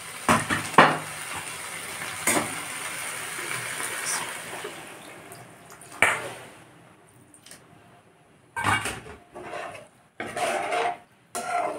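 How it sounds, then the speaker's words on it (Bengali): Drumstick stalks stirred with mustard paste in a pan, a steady sizzle with scraping and clattering of a spoon against the pan, near, with intermittent louder bursts of stirring. "সরষা বাটা দিয়ে একটু নেড়ে চেড়ে জল দিয়ে দেবো।"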